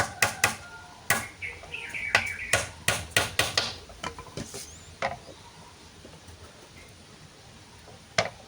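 Hammer blows drive nails into the legs of a simple rattan cage for a zebra dove, a rapid run of sharp, close metallic knocks that slows, then stops, with one last strike after a quiet pause.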